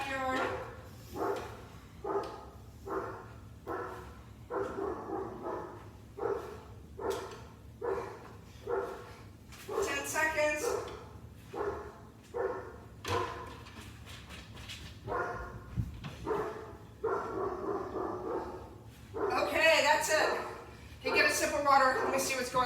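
A dog barking repeatedly inside a house, sharp evenly spaced barks near the microphone, with a few yips and whimpers, continuing for over twenty seconds under a low background hum.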